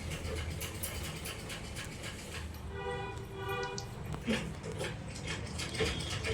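Scissors snip through lining cloth for a long frock, quiet repeated clicking cuts with faint rustling of fabric close by.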